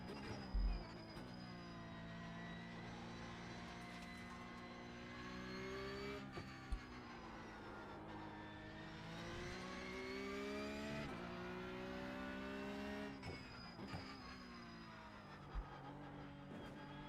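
A Porsche Cup race car laps the Nürburgring in iRacing, its engine droning steadily and rising and falling in pitch through upshifts and downshifts, with a few faint clicks over the continuous engine note.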